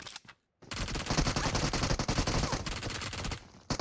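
Rapid automatic gunfire in PUBG Mobile, a dense burst of sharp repeated shots lasting about three seconds after a brief silence, loud and close, with a few scattered shots around it and no talking.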